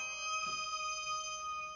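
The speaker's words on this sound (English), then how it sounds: "I can switch to an Erica Wavetable Oscillator." Erica Synths wavetable oscillator in a modular synth setup, its wavetable position jumping in stepped random fashion, giving a steady sustained tone with several bright held partials and subtle shifts in timbre, played alone.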